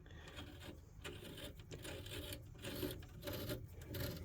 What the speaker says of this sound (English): we're going to run a tap through them and clean them up